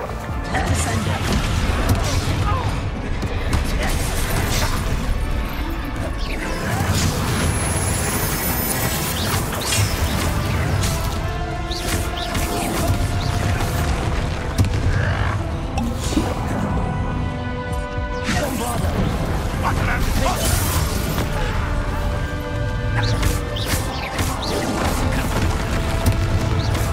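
Crashing spell blasts and smashing impacts in Hogwarts Legacy, repeated loud booms and debris clatter throughout a long busy stretch, with a player's voice speaking between the hits.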